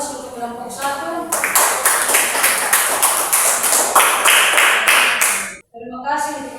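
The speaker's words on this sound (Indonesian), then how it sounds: "Kita berikan aplaus untuk kelompok 1." An audience applauds group 1 after a classroom presentation on biological control with antagonistic bacteria, with a burst of dense, close clapping lasting several seconds before stopping abruptly and a voice resuming.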